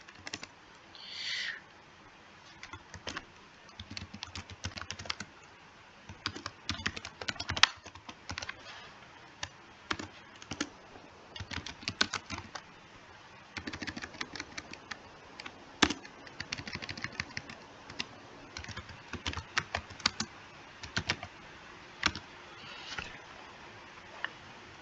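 Fingers type on a computer keyboard while writing C++ code, with close, quiet clicking in irregular bursts and short pauses, and no talking.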